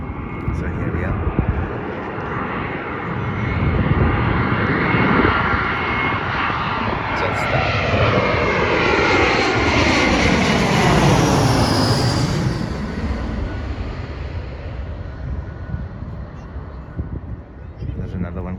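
A passenger jet arriving from the east roars in to land during plane spotting, its engine noise swelling loud and near, peaking with a sweeping whine as it passes overhead, then fading off.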